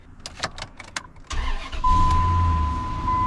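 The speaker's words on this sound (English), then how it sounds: "Let's see if the yard truck will start again." An old, ugly yard truck with a check engine light always on cranks after sitting a couple of weeks, then catches and settles into a steady, loud idle close by, with a thin whine running above the engine.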